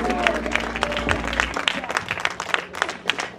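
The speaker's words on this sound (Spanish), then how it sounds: "Aplausos al Señor." A church congregation claps in praise to the Lord during a norteño-style worship service, sharp hand claps ringing out over lingering music and voices.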